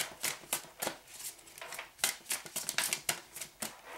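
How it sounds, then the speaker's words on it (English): Tarot cards being shuffled by hand, crisp riffling bursts coming in uneven clusters, close and fairly quiet, with no talk. "Keep shuffling."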